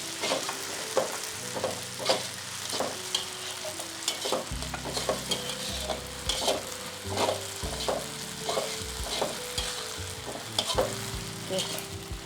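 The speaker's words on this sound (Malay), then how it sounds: "kita goreng sehingga kuih tiaw tu naik wangi ya" Flat rice noodles sizzle and hiss in a hot wok while a utensil scrapes and clatters rhythmically as they are stirred and tossed, with nobody speaking.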